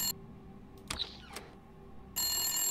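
An old-style telephone rings in a horror video game, a sharp bell-like trill cutting through quiet with a couple of separate bursts before a louder, steady tone returns at the end.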